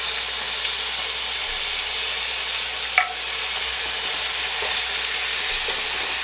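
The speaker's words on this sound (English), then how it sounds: "We mix this in until we get it added to our mixture here" Flour being stirred into a sizzling shepherd's pie mixture in a pan, a steady frying hiss throughout with faint scraping from the spoon and one brief clink near the middle.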